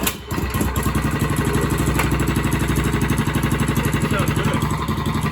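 A cheap go-kart's small engine runs with a straight pipe exhaust, a loud, raspy, rapidly pulsing idle close by that starts after a brief opening burst and holds steadily throughout.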